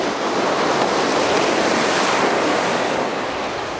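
Ocean surf washes onto a Southwest Florida beach in a constant, loud roar of breaking water with wind, and no voices.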